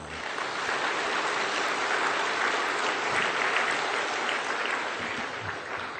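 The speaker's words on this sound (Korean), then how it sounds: "우리 모든 각 부서 모두에게 서로 감사하는 박수 한번 해요" Korean church congregation applauding together in thanks to deacons, choir and pastors during Sunday worship; dense, sustained clapping from a large crowd, even and unbroken, like rushing rain.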